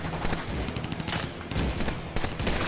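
Gunfire in a drama episode: dense, rapid bursts of shots crackle continuously for a few seconds, loud and close, like sustained automatic fire.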